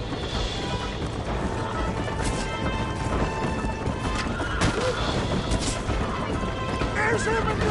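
Galloping horse hooves pound steadily in the Western video game Red Dead Redemption, set beneath dense gunfire, crashes and game effects, with voices talking over the chaotic mix.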